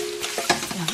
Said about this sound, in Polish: Również ozorki podgrzewały się w tym samym garnku.